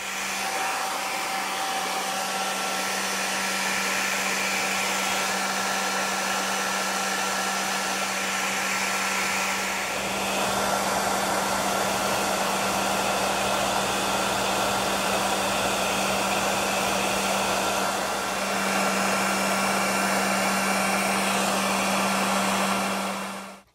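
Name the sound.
blow dryer drying an EGR solenoid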